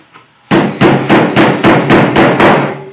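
Hand hammering of nails into a laminated closet, about eight sharp, evenly spaced blows in a steady rhythm, loud and close with no talk.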